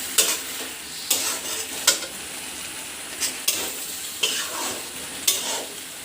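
Vegetables for vegetarian brown rice khichuri are stir-fried in a pan, a soft steady sizzle broken by about eight sharp scraping strokes of a spatula at irregular intervals, close and without talk.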